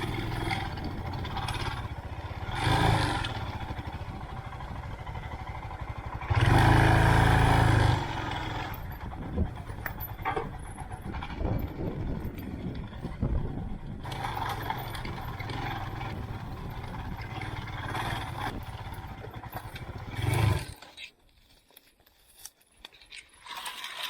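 A motorcycle climbing a soft sandy hill on Tasmania's west coast, its engine rising to a loud strained burst partway through, with rattling and clatter around it and a quieter stretch near the end.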